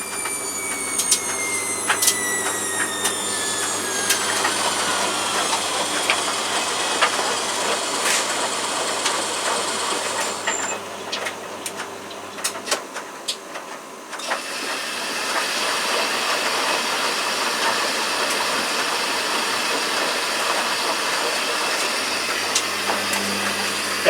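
A washer dryer motor runs with a slight raspy edge, a continuous close whirring hiss with faint squeaky tones that briefly dips and then resumes, no talking.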